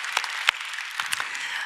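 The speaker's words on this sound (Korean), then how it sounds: "좋으신 하나님께 박수로 감사합니다" Applause from a church congregation giving thanks during a Korean worship service, with scattered claps rising out of a steady wash of crowd noise over a short stretch.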